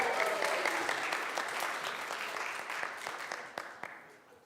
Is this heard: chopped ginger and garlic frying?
no